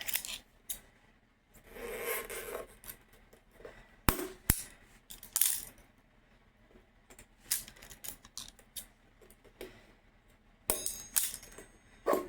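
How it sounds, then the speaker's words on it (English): Snips and rubbing handling as zip ties are cut from a new tubeless bicycle tire, a series of short irregular clicks and scrapes, close and moderately loud, with quiet gaps between, no talking. "And then what you're going to want to do is cut the zip ties."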